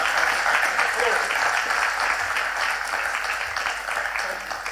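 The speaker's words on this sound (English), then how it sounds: "Dr. Susan Schweitzer, let's give her a big round of applause" Audience applause at a live-streamed Duke of Edinburgh's International Award Foundation event, a steady wash of many hands clapping that holds for several seconds at fairly even loudness before easing slightly at the end.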